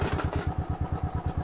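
A Bullet motorcycle running close by, a fast, even thumping engine beat pulsing steadily throughout, loud and alone.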